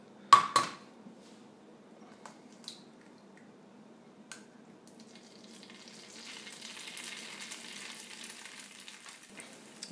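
Butter heating in a new cast iron pan on a stovetop: a couple of sharp clicks, then near-quiet before a soft, airy sizzle slowly swells and holds toward the end.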